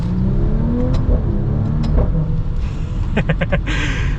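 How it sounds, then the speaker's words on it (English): A 2021 Maserati Levante V6 SUV engine pulls hard and rises in pitch, then pops and crackles on quick gear changes, loud over road noise. "We are going to get our acceleration here with the Levante."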